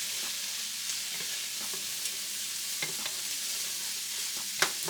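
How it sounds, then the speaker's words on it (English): Vegetable fried rice with sesame oil sizzles in a hot pan as a utensil stirs it, giving a continuous soft frying hiss broken by a few light scrapes and taps. "Give that a nice little quick stir."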